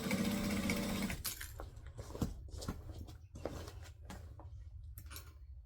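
A sewing machine stitching around a bag runs in a steady mechanical whir, then stops, leaving soft handling clicks and rustles of fabric nearby with no talking.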